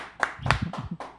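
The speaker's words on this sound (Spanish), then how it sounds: "Un fuerte aplauso a Aníbal" A small audience claps for a guest in an interview setting, a short burst of scattered, uneven handclaps close by lasting about a second.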